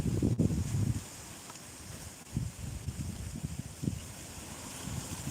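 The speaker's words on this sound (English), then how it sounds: "It's got really windy. Blew dirt in my eye." Wind gusts blow outdoors, buffeting the microphone in irregular low rumbling bursts over a steady background hiss.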